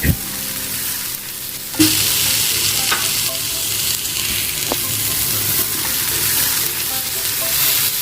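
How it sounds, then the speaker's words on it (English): Onions sizzle and crackle steadily in a hot pan, with a stir or two scraping near the start, no voices. "Let onions fry to transparent, 3-4 minutes maximum."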